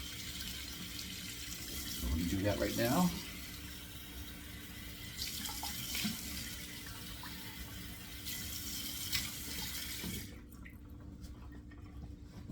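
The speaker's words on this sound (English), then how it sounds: "Let me run the cold water here." Cold water runs from a sink tap in a steady, moderate rush, with a splashy burst early on, then cuts off near the end while someone speaks briefly over it.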